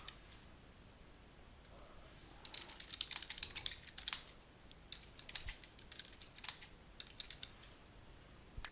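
Someone types on a computer keyboard, entering a title into a discussion forum; quiet, irregular bursts of key clicks come close up without speech.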